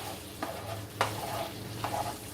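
Casserole ingredients sautéing in a pan give a constant, close frying hiss, broken by three brief scrapes of a stirring utensil and no voices.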